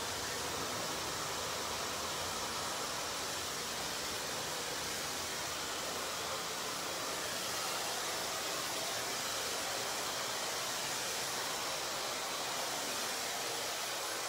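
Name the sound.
hair dryer with diffuser drying curly hair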